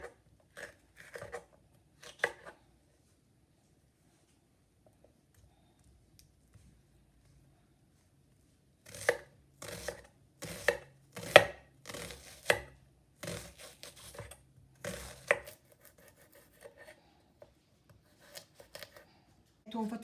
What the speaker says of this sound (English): You don't want to cut all these things small, you know, to look nice in the pot.